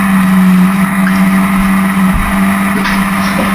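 Historic Formula Ford race cars at Brands Hatch drone loudly and steadily with a sustained engine tone, a close continuous roar with slight pitch wavers as the cars pass.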